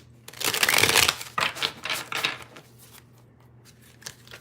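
Tarot or playing cards are shuffled loudly and close by in several quick riffling bursts, then it fades to near quiet with one last soft rustle.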